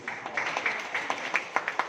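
An audience at a Hindi poetry recital (kavi sammelan) gives faint, thin applause: a few scattered claps at a distance, irregular and sparse.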